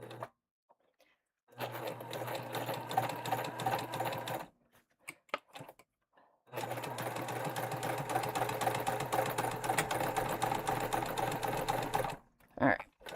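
A sewing machine basting a seam on a tote bag, running in two long steady whirring bursts separated by a pause, with faint handling noises between them.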